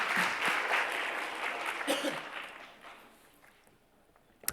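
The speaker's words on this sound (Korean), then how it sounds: "우리 여호수아 우리 부회장 나올 때 박수로 우리 한번 맞이해주고 성경보고 듣겠습니다." Church youth group congregation applauding during a Sunday worship service, a steady burst of clapping that fades out over a few seconds, with a faint voice briefly underneath.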